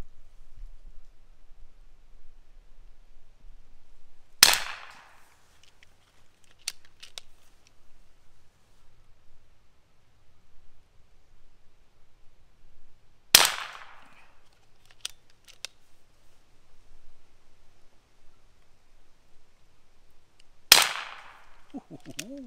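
Three sharp, isolated shots from a Hatsan JET PCP air pistol, fired outdoors at 20 yards, each a crisp crack spaced several seconds apart, with quiet background between.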